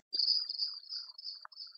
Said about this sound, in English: So this is the sound of a cricket.